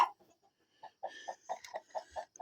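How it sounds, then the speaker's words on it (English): Chickens clucking inside a coop with roosts and nests, a steady run of short, rhythmic clucks close by after a quiet start, with a brief high peep near the end. "There's a lot of chickens"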